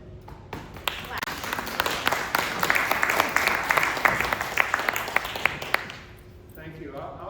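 An audience at a talk on bees claps for a guest speaker, starting with a few sharp claps, swelling into steady applause, then fading out as a voice begins speaking.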